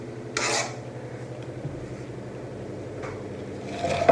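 Ingredients grated by hand on a kitchen grater, a soft, quiet rasping scrape that repeats steadily with a couple of louder strokes.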